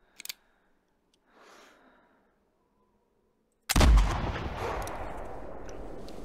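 A single loud, close rifle shot fired over iron sights while hunting bison in the video game theHunter Classic, with a sharp crack and a long booming outdoor echo, after a faint click and near silence.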